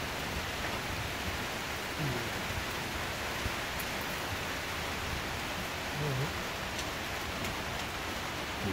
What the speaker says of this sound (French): C'est la pluie du Congo.